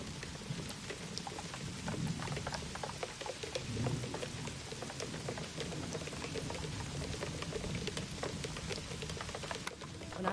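Steady rain falls heavily and evenly for the whole stretch, a dense hiss of drops with a low rumbling undertone, close and continuous with no voices.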